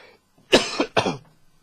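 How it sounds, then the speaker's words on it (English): Two sharp coughs in quick succession, close and fairly loud, with quiet moments before and after. "that was me coughing"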